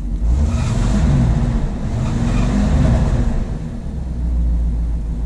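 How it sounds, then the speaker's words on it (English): A Chevy C10 truck engine with a battery that is not charging revs up close and loud, a steady low rumble that swells and eases over several seconds, with no talking. "So I'm gonna give it a rev."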